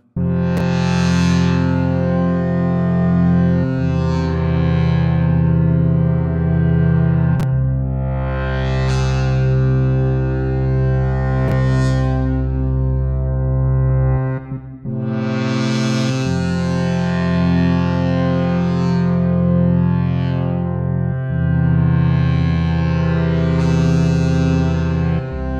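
Sustained Synthmaster 2.9 synthesizer chords swell and fade in slow waves, drenched in a long reverberant wash, with no voices.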